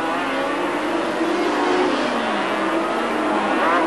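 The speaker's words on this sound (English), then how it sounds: "De Radigues, there is Haslam, the race leader." Racing machines at the 1985 Macau Grand Prix roar past in a steady, loud engine drone that holds for the whole stretch, with a slight rise and fall in pitch as they go by.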